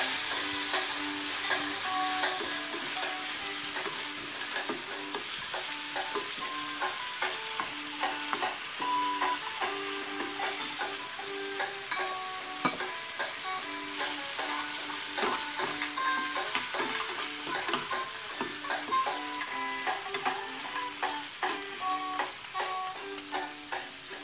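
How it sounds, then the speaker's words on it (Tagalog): A pound of chicken stirred and sautéed in a pan for a Filipino chicken afritada, a continuous close sizzle with repeated spoon scrapes and clinks throughout, no talk. "Hahaluin at sasangkutsahin."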